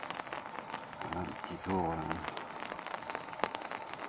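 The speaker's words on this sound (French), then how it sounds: "Avec la pluie aujourd'hui." Rain falls at night on a city street while someone walks with an umbrella, a soft, steady patter and crackle throughout, with someone speaking French briefly partway through.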